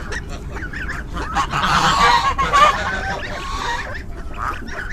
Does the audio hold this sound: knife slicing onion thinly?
no